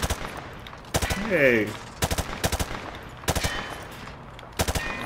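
Rapid gunfire in Modern Warfare 2 comes in short, sharp automatic bursts spaced through the scene, with a brief whooshing effect between them. A man briefly calls out over the shots.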